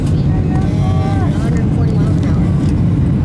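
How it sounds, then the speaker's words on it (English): Aircraft engine powering up on landing approach: a loud, steady low roar with a faint wavering tone rising above it, continuous under a voice talking. "Sounds like he's pouring a bit more engine to her."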